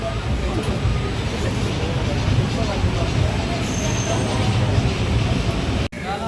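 A passenger train pulling out of Tiru Annamalai station rolls on with a steady, loud rumble of wheels and carriage noise, broken by one brief dropout near the end.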